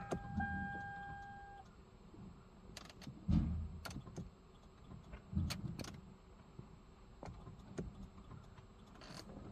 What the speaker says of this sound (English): First up, turn the power on, and I'm gonna start the car